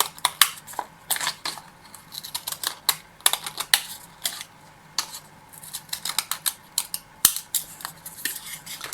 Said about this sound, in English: I'm going with my scrapbooking scissors, and I will go right on the brim.